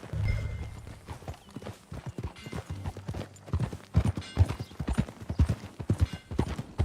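Horse hooves clip-clopping in the video game Red Dead Redemption 2, a quick steady rhythm of close hoofbeats that grows louder and busier toward the end, with no talking.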